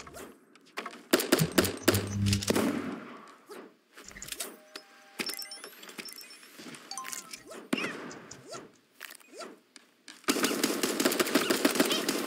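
Gunshots in Super Animal Royale, where a hunting rifle is in play. Sharp cracks come in quick clusters at first, scattered lighter hits follow, and a dense rapid burst ends the stretch.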